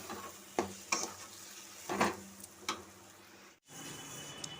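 Prawns frying in a pan in a home kitchen, a steady faint sizzle broken by a few sharp stirring clicks and scrapes, close by with no talk.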